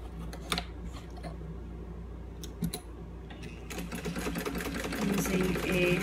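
A sewing machine stitches a zipper pouch with a half inch seam allowance, running in short bursts at first and then in a steadier, louder run toward the end, with low background noise between bursts.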